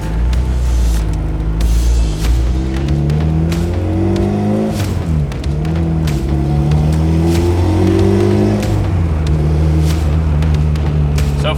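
A turbocharged B18C-powered Honda EG hatchback pulls along a highway, its engine note rising through the gears in long sweeping climbs, dropping at a shift, then climbing again, loud and continuous with wind and road roar throughout.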